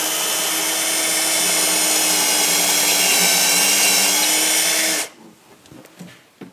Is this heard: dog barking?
no